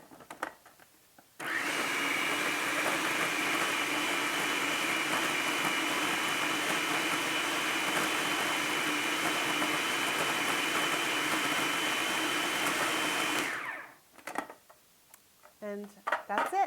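A food processor pulses chickpea salad ingredients in one long steady run of loud whirring motor noise, starting abruptly and cutting off after about twelve seconds, followed by faint clatter.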